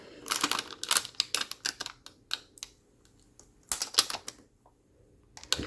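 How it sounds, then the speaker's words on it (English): Transfer tape peeled back off cut vinyl lettering for a personalized word search sign, a series of close, crisp crackling and tearing bursts in irregular clusters with brief quiet gaps. "And then we can peel back the transfer tape."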